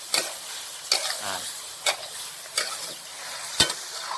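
Cauliflower stir-fried with minced pork and chili in a pan: a steady sizzle broken by five or six sharp utensil scrapes spaced about a second apart, close by.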